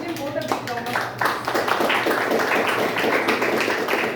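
Members at a Toastmasters club meeting clap together in a moderate round of applause, starting after a brief stretch of speech and continuing as an even patter of hands.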